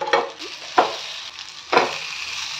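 Batter-dipped pumpkin leaves drop into hot mustard oil, and each one sets off a loud burst of sizzle. Three bursts come in quick succession over a steady frying hiss, close up and without talk.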